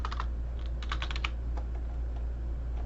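Quick bursts of typing on a computer keyboard as a text title is entered, several rapid keystroke clusters early on then sparser taps, close and clear over a steady low hum, with no talking.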